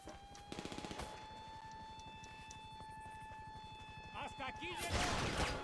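Rapid automatic gunfire in GTA Online during the Cayo Perico heist, a fast steady rattle of shots running throughout at moderate distance, with game tones and a voice near the end.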